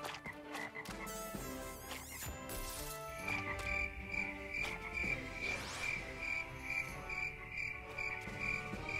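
A frog croaks repeatedly in the Crash Bandicoot N. Sane Trilogy video game, bright rhythmic croaks mixed with chirping cricket-like game ambience and music, with no talking.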